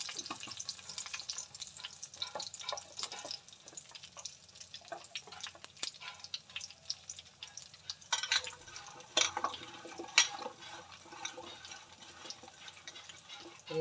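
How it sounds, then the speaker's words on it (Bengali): Bay leaves, white cumin and a whole chili temper in hot oil, a soft continuous sizzle broken by spitting crackles and light clinks, louder bursts toward the middle as the spices fry. "একটা লঙ্কা ফোড়ন দিলাম।"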